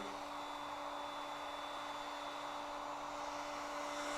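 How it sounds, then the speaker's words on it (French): A heat gun blows a steady, even whirring hiss with a faint tonal hum as it gently warms plastic, running continuously at a close, moderate level. "c'est du plastique, fait que j'y vais mollo pour chauffer"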